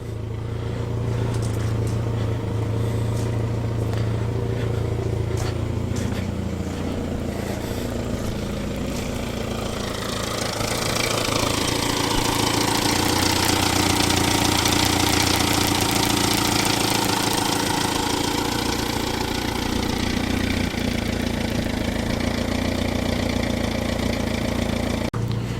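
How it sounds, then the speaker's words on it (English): A classic Renault car engine idles while warming up, holding a steady mid-pitched running note for nearly half a minute that swells slightly midway, with no one talking. "It's a better idle than it was."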